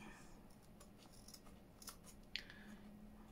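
Scissors trimming a paper bookmark, a few faint, quiet snips and one sharper cut near the end over a low room hum.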